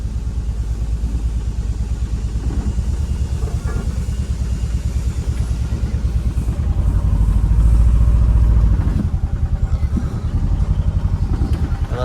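A loaded vehicle's engine rumbles steadily at low speed over a potholed road, with clattering and bumps, loud and close throughout.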